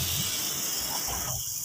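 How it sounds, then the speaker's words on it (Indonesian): Banana nuggets deep-fry in hot oil over medium heat, giving a steady, dense hiss and sizzle that fills the whole moment close up with no break. "gorenglah pisang dengan api yang sedang hingga warna pisang kuning keemasan"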